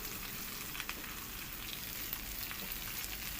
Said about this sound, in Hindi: बस अब इसको हम फ्राई करेंगे अच्छे तरीके से तवे पर